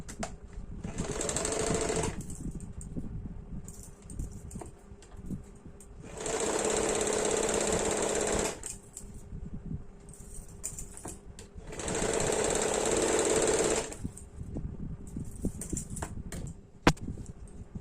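A sewing machine sews a straight seam on a kurti before lace is attached, three separate bursts of fast whirring stitching a few seconds each, with quieter handling noise between them.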